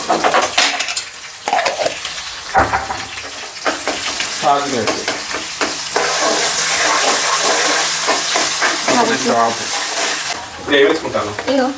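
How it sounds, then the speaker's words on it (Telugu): Ginger paste sizzles and fries loudly in a pan for a fish curry while being stirred, with scraping and clinking of a utensil throughout and a voice talking over parts of it. "అల్లం కూడా పచ్చివాసన పోయేంత వరకు ఇలా కలుపుకుంటూ ఉండాలండి"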